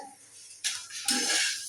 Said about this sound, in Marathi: भांड्याचा आवाज येतोय